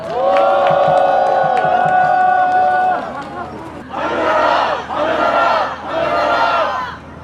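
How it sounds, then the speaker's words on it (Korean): At a Democratic Party rally in Sejong calling for an immediate impeachment ruling, a large outdoor crowd roars in a long sustained shout, then bursts into three loud waves of applause and cheering with brief dips between them. "즉각 파면 촉구 집회를 함성과 큰 박수로 시작하겠습니다."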